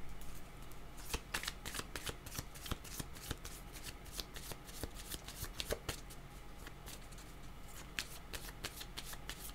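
Tarot cards being shuffled by hand in a dense, continuous riffle of crisp paper flicks and slaps, close and steady throughout, with no talking.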